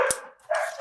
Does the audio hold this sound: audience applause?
no